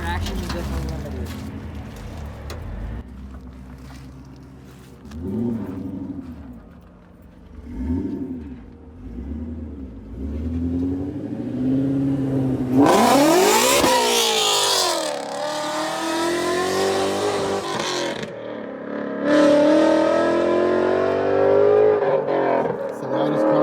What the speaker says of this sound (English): It's the loudest car on earth.